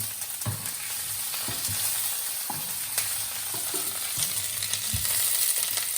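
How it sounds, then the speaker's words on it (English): Onions frying in a pan, a dense, steady sizzle with scattered scrapes and taps from stirring, close and moderately loud, with no speech. "you can also throw onions inside and just mix them all together"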